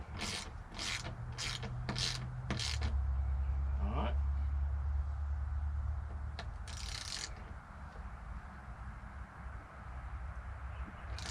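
A socket ratchet clicking while a Harley-Davidson Tour-Pak rack is bolted onto a motorcycle, with short bursts of quick, close mechanical clicks over steady outdoor background noise as someone talks.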